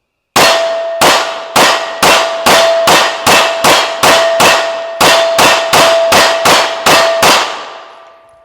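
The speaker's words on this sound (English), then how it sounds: "run a pretty good string on the harmonic so you can hear how it kind of builds up a little bit as you're going" A rapid string of about sixteen gunshots rings a harmonic steel target, each sharp metallic clang landing about half a second apart. The ringing tone carries between hits and swells slightly as the string goes on, and no one talks.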